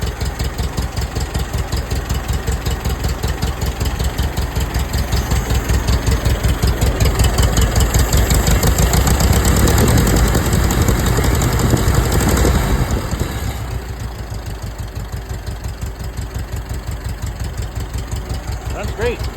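An old, cheap tractor engine idles with a steady rapid chugging rhythm, close and loud, rising slightly in the middle and then settling to a lower, quieter idle.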